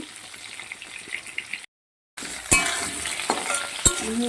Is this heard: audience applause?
no